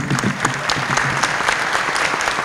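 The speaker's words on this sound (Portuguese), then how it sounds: "Pedir uma salva de palmas para os dois." Steady applause from a political debate audience in Sobradinho greets two guests. Dense clapping holds at an even level throughout the short stretch, with no voices over it.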